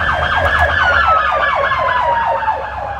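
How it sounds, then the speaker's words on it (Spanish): An emergency vehicle siren passes nearby, its loud, rapid wail sweeping up and down repeatedly and slowly dropping in pitch as it goes by, with traffic rumble underneath. "A cada 2 minutos, 3 minutos, una sirena"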